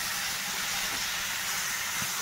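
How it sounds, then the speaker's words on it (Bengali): Boiled mung dal fries in a pan, giving a steady, continuous sizzling hiss with no pauses. "এবার এর মধ্যে একটু ডাল দিয়ে আমি কষিয়ে নেবো"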